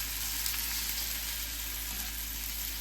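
Three salmon fillets pan frying in butter, tilted to one side in the pan: a dense, constant sizzle close up and fairly loud, steady throughout with no speech.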